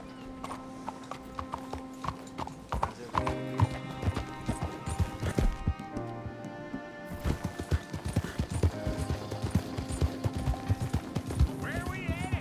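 Steady clip-clop of horse hooves trotting close by in Red Dead Redemption 2, with music playing and brief voices over it, fairly loud throughout.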